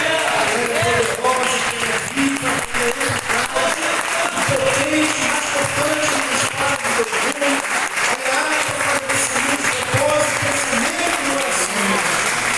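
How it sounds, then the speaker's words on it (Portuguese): A church congregation gives sustained, dense applause for a dozen seconds, a steady crackling wash of many hands with voices mixed in underneath. "dê a melhor salva de palmas para essa palavra"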